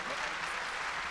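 Audience applause fills the moment, a steady dense patter of many hands clapping at moderate loudness.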